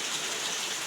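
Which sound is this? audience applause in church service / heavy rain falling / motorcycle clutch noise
heavy rain falling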